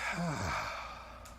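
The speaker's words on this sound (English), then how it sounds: "Take a breath of air in. Blow out the air." A single long breath pushed out slowly during a guided breathing exercise, a soft airy exhale that starts strong and fades over about a second and a half, close and alone.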